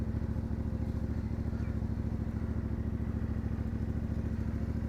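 A motorcycle engine runs steadily at close range on a hot day in Pakistan, its low rhythmic thrum and faint mechanical clatter holding even throughout with no voices.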